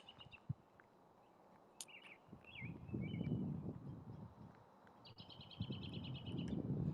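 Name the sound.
small birds chattering at sunset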